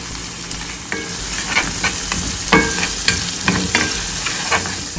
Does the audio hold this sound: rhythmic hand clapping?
no